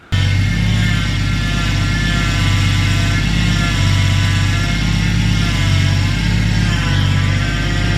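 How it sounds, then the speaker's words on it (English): A Toyota Supra's 2JZ engine idles with a steady low drone, overlaid by a continuous whining, groaning hum from a failing power steering pump that wavers slightly in pitch and persists unbroken throughout. "I'll just put a clip from the last video of the noises that the power steering pump was making"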